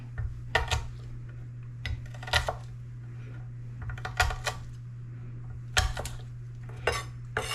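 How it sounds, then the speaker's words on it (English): A kitchen knife roughly chops garlic cloves together with onions on a board, giving sharp, irregular clusters of close chopping taps with pauses between, over a steady low hum. "we're going to just roughly chop our 5 cloves of garlic in with the onions"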